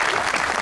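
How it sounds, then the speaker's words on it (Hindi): Audience applause in an Eid special TV talk show studio, a dense, steady burst of clapping at close range with no gaps over its short length. "इनके लिए ताली होनी चाहिए।"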